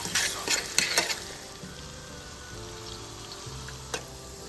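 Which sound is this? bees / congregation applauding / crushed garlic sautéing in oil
crushed garlic sautéing in oil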